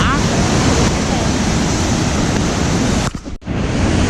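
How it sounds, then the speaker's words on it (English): Water flowing hard at a waterfall on a hike to secret waterfalls, a loud, steady broadband roar filling the whole clip, with a brief dip in the rush near the end. "No, the water is flowing so hard right now."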